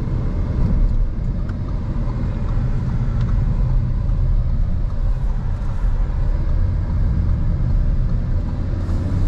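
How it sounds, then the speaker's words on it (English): Cabin drone of a 2024 Audi RS3 on the road, a steady low engine rumble with road noise throughout, no distinct shift events standing out. "So the shift sounds are really cool in the RS3."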